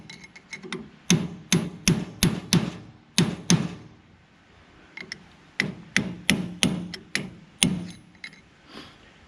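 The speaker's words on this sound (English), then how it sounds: "I'm going to try to use a drift pin and maybe just tap this" A drift pin is tapped with a hammer to loosen a part on a Case 450C bulldozer's hydraulic lift cylinder, giving two bursts of sharp, close metallic strikes in quick irregular runs with short pauses between.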